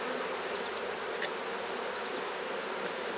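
Honey bees buzzing around an open beehive during an inspection, a dense, steady hum of many insects close by, with a couple of faint knocks and brushes of handling mixed in.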